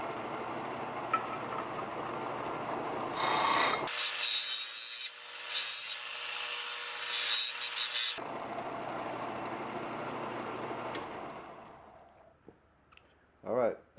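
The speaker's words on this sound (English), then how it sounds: "we're back at our grinder here" A bench grinder smoothing the edge of a brass horse head key chain, with several loud, gritty grinding bursts in the middle, set between stretches of steady motor hum.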